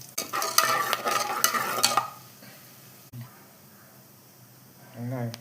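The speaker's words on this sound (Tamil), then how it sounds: "நான் இதை போட்டுக்கிறேன். ஸ்பைசஸ் பட்டை, கிராம்பு, சோம்பு, ஏலக்காய், பிரிஞ்சி இலை." Whole cinnamon, cloves, fennel, cardamom and bay leaf hitting hot oil for Chennai-style paneer biryani, giving a loud close crackling sizzle with stirring clatter for about two seconds before it fades to a quiet simmer and a voice speaks briefly.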